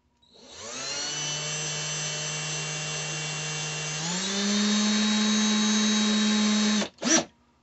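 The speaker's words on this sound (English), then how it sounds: "The more speed you put into a drill bit, the more heat it's going to create" A power drill whirs steadily while drilling out a rusted, stripped screw from a GI Joe figure, then its pitch steps up partway through and runs higher before cutting off, followed by a brief final burst.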